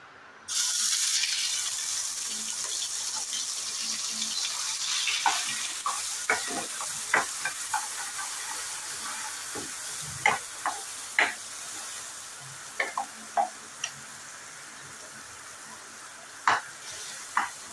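Ground masala hits hot oil for a tuna fish curry, starting with a loud burst of sizzling that settles into a steady fry, punctuated by repeated sharp scrapes and taps of stirring.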